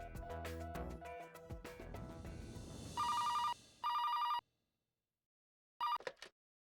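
A telephone rings in repeated bursts of electronic trills, loud and close, with a short silence before a final ring that cuts off as the call connects.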